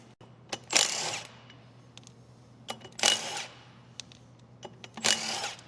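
A power tool works on the flywheel of a Jeep CJ-5 engine, sounding in three sharp, loud bursts about two seconds apart, close by, with small clicks and knocks between them and a steady low hum underneath.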